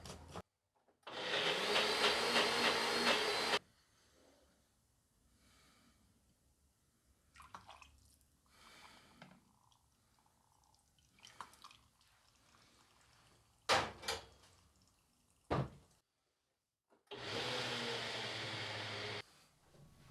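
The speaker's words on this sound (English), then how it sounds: "my blender food processor combo was not up to the task" Ninja blender food processor churns fava beans into butter in two loud, whirring bursts, one at the start and one near the end, with quieter knocks, scraping and clatter from the bowl between them.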